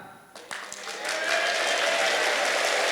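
An audience at a company anniversary event breaks into applause, starting with a few scattered claps and swelling within a second into loud, sustained clapping.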